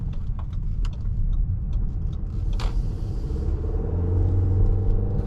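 A 2018 Audi Q3 2.0T Premium Plus Quattro accelerates hard with the pedal floored, a deep steady engine drone heard from inside the cabin, rising gradually in pitch with road rumble underneath.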